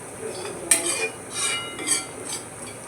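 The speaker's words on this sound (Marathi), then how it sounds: "मी आता ते एका भांड्यात व्यवस्थित काढून घेते" Spoon scraping and clinking against a pot while cooked stuffed brinjal is scooped into another vessel, with a few sharp metallic taps over a soft background hiss.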